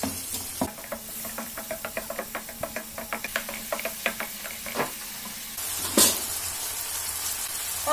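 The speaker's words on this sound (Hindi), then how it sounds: "इसको हम चला करके अच्छी तरीके से टमाटर जब तक गल नहीं जाएंगे तब तक हम पका लेंगे।" Tomatoes being stirred and cooked in a pan for moong dal khichdi, with a steady close sizzle and a run of repeated spoon knocks and scrapes against the pan, then a louder burst of frying hiss near the end.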